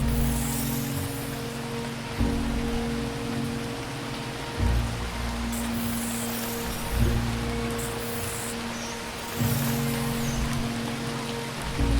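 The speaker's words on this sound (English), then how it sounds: "The rain is coming from very small clouds, as if the planet is sucking the water out of them." Rain falls in a steady, dense hiss on an alien planet, broken by low pulsing tones that recur every couple of seconds, with no voices.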